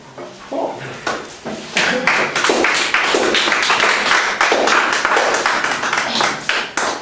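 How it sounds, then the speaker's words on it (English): A church congregation claps in a steady, brisk rhythm, many hands together building from a few claps into a full, sustained round with a faint voice beneath. "People are clapping"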